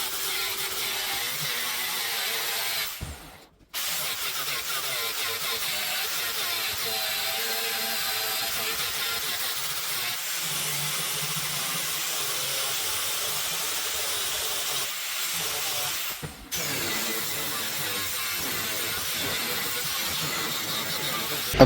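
A 36-grit disc grinds a steel knife blade, producing a steady hissing, abrasive roar that runs almost continuously with two brief pauses, loud and close.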